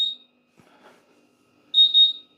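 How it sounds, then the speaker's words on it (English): A kitchen timer buzzer sounds two bursts of loud, shrill beeping, one brief at the start and a longer double beep near the end, with faint rustling in between. "Saved by the Bell, the buzzer,"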